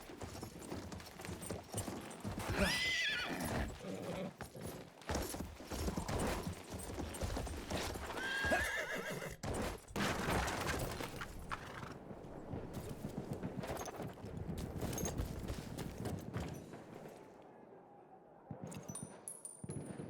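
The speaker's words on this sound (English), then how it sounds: "Horse." Horse hooves clip-clopping in a World War I battlefield scene from Battlefield 1, steady hoofbeats under a dense bed of rumbling gunfire and battle noise, with a brief whinny and some muffled voices, thinning out near the end.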